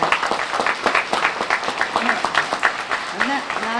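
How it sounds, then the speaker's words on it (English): Audience at an elementary school Red Ribbon celebration applauding their teachers, a dense steady patter of clapping filling the room with voices calling out over it throughout. "Are you applauding because of your teachers?"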